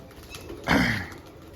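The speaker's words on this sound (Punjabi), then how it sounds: "ਲਓ ਵੀ ਦਾਣਾ ਪਾਣੀ ਪਾਤਾ ਕਬੂਤਰਾਂ ਨੂੰ" One short pigeon coo close by, rising then falling, over quiet room noise; no distinct wing flapping stands out.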